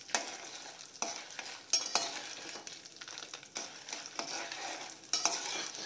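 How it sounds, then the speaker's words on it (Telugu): Turkey berries (usthikaya) frying in a pan, a steady soft sizzle with intermittent stirring scrapes and light utensil taps, quiet and close, without talk. "మాడకుండా దూరంగా వేయించుకోవాలి"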